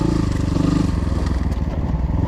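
KTM 300cc motorcycle, its engine running close by with a loud, rapidly pulsing low rumble that stays steady through the clip, with some rattling and clatter on top.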